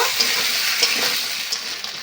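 Ground spices fry and get stirred in a pan of spice paste for a rustic silver carp and taro curry: a steady, close sizzle with scraping stir strokes throughout, no voices.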